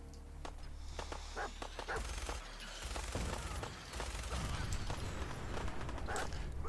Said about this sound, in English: Trying to keep the cycling on the minigun a little bit low because it tends to scatter